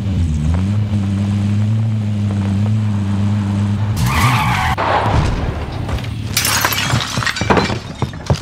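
A vehicle engine drones steadily in Call of Duty: Warzone, then tires skid and screech loudly over crashing, shattering impacts and debris in the second half.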